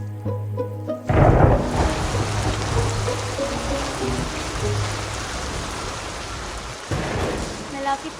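Heavy rain pours steadily through a forest, with low thunder rumbling in from about a second in and swelling again near the end, a loud continuous wash with no break.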